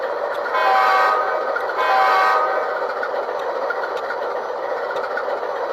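An HO-scale MTH Dash 9 model locomotive fitted with a LokSound decoder plays its sound effects. Two long horn blasts sound over a steady engine rumble with a faint rhythmic ticking, close and clear, and no one speaks.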